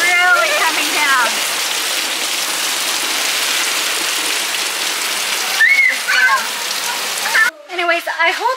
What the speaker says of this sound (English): Look at the rain. It just started pouring. Like, really coming down.